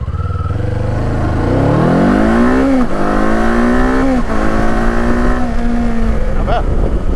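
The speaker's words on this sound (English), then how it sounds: "that motor likes to rev" A 2024 Kawasaki Eliminator 450 motorcycle engine revs up hard through rising pitch on a test ride, climbing, dropping briefly at gear shifts, then pulling again, loud and close with wind noise.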